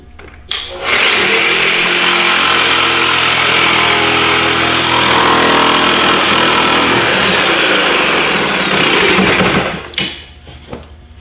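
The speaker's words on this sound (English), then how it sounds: "I'm going to intentionally start by cutting, I'm going cross grain on this Baltic birch" Power saw slicing cross grain through Baltic birch plywood at high RPM, a loud steady whining cut that holds for about nine seconds, with a sharp start and a spin-down at the end.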